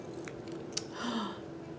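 Scissors snipping straight across paper for a Thanksgiving turkey craft, one brief sharp cut up close over a quiet room background.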